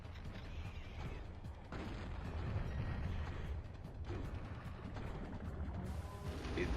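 Gunfire in Turok: Dinosaur Hunter aimed at a boss, a dense, continuous barrage of loud mechanical shots and crashing impacts with a rumbling low end and no pauses, over a busy game soundscape.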